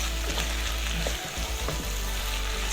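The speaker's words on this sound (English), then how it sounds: "So I'm going to let these tomatoes cook and release all their juices." Cubed tomatoes simmer and sizzle in a pot of minced beef stew, a steady close frying hiss with a few soft stirring bumps throughout.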